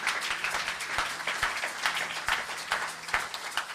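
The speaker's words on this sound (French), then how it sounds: "Acclame pour Jésus" A church congregation claps in praise during a French-language sermon, a dense, steady wash of many hands with no voices rising above it.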